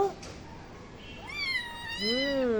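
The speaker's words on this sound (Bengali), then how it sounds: "অনেক সুন্দর বিড়াল এগুলো।" A cat gives a couple of drawn-out meows, close by and fairly clear, over a faint background hiss.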